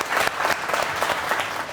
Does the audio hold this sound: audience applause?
yes